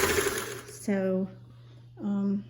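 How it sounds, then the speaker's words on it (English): A Singer 328k sewing machine stitching a zigzag with a specialty stitch cam, running in two short bursts with a steady hum between them, close and clear. Some background noise is present, but no words are spoken. "making a zigzag there."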